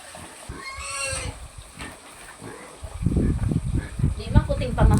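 A pig on a small farm grunts and snorts in several rough, close bursts, louder toward the end, with people chatting nearby.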